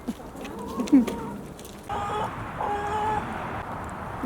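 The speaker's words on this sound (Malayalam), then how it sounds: "ഇതേ നമ്മുടെ ബുൾഡോസർ കോഴി അവിടെ ഉണ്ട് കേട്ടോ." A hen clucks nearby in a few short, throaty notes, with faint background noise and other birds around.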